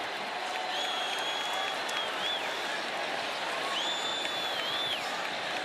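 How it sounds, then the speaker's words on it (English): A stadium crowd buzzes and cheers at a college football game between Syracuse and Florida State after a big catch, giving a steady, broad roar with faint whistles on top. "The crowd buzzing from that Keon Coleman catch"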